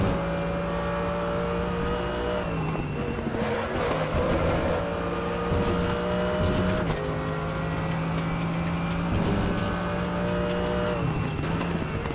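A Mercedes AMG GT3 race car in a racing video game holds a steady, loud engine drone, with gear changes dropping and lifting the pitch several times and a harsh strained edge from the gearbox.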